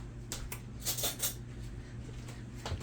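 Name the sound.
getting a spoon from cutlery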